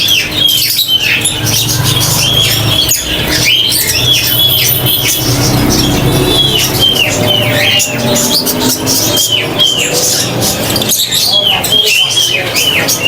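A loud crowd of caged birds squawks, chirps and coos over and over at a busy bird market, with the calls overlapping without a break. People talk nearby throughout.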